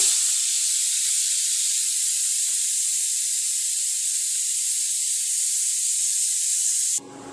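Ghee goes into hot carrot halwa just off an induction cooker, giving a steady, bright hiss and sizzle that runs evenly for several seconds before cutting off abruptly near the end.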